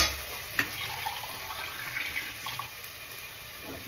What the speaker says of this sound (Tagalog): Yung lata, lagyan ko lang ng tubig kasi sayang yung dun